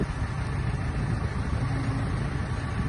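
A McCormick 110 hp tractor runs with a steady, loud mid-to-low engine drone, close and unbroken, with no voices over it.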